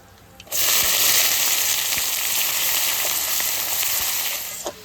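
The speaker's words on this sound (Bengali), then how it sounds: "দেখেন পেঁয়াজ কি সুন্দর ভাজা হয়েছে দেশি পেঁয়াজ" Desi onions fry in hot oil with cumin, bay leaf and dried chilli for a chicken curry, a loud, steady, close sizzle that starts abruptly and runs unbroken.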